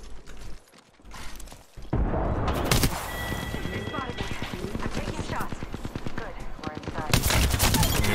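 Gunfire in a video game shooter fills the clip, with rapid bursts of shots and booms in a dense, continuous barrage after a brief quieter start; a voice talks over it.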